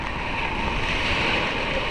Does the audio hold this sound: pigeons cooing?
no